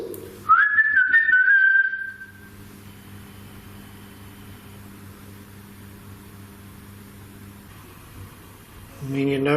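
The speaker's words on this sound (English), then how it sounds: "Copy this whistle." A single rising, warbling whistle from a person lasts about a second during a ghost hunt at Ye Olde Boars Head, then a quiet hum with faint mechanical noise continues.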